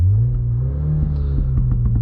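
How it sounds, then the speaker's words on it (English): Synthetic engine sound piped through the cabin of a 2025 MINI Countryman John Cooper Works while driving, a steady low droning rumble that rises slightly, with faint pops and clicks toward the end; no talking. "There's also fake engine noise currently on."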